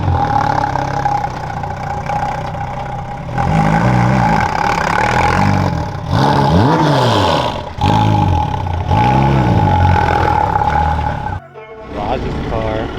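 A tuned car at an auto shop open house revs repeatedly, its engine climbing and falling in loud, close bursts over a steady idle, with people chatting nearby.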